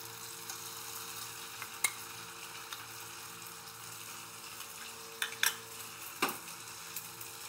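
Poppy seed paste with garlic fries in a pan under a low continuous sizzle, with occasional sharp clinks and scrapes of a spatula stirring it.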